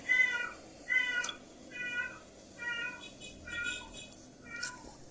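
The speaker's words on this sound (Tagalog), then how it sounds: "ingay ng pusa" Six meows from a nearby cat, repeated at a slow, regular pace, the first ones loudest.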